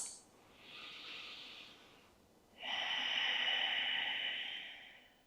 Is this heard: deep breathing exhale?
yes